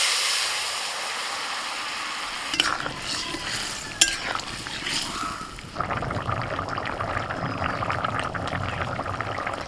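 Five-spice tempering with a bay leaf and dried chili crackles in oil, then the curry goes in with a splash. After that comes a steady, louder sizzle under brisk stirring and scraping in the pan.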